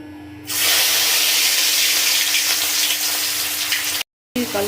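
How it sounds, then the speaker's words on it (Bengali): Vegetables dropped into hot white oil for vegetarian chowmein, a loud continuous close sizzle that bursts in after a quieter start and holds steady, with a short gap near the end. "সাদা তেল দিয়ে দেবো গরম হয়ে গেছে আমি সবজিগুলো ভেজে নেবো"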